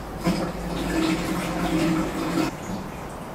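Water being poured through a funnel into the chiller of an 80W Chinese CO2 laser cutter, a steady close splashing gurgle lasting about two seconds before easing off.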